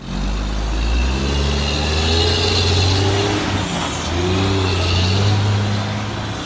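A toy dump truck, a sand truck, goes with a loud, steady engine-like rumble and airy hiss that swell and ease twice over several seconds, with no talking.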